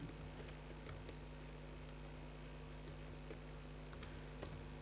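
Soft, sparse keystrokes on a computer keyboard while entering a stock item in Tally Prime accounting software, faint and close over a steady background hum.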